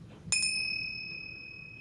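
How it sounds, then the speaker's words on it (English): Chimes are struck once over a pile of tarot cards, a bright metallic ring with clear high tones that sustain and slowly fade, close and fairly quiet. "So what I'm going to do is I'm going to ring these chimes over each pile."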